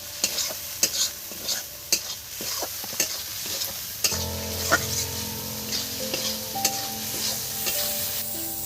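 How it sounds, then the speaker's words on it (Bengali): Tomatoes frying in a pan for a Bengali lote fish curry, stirred with a steady sizzle and repeated scraping clicks of the spoon against the pan, close and continuous. "এই যে টমেটোগুলো দিয়ে দিচ্ছি দেখুন এর মধ্যে, দিয়ে অল্প কিছু টাইম আমি একটু নেড়ে চেড়ে নেবো"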